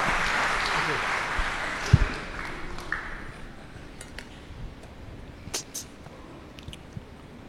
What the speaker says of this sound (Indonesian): Mari kita berikan aplaus Pak Jonathan.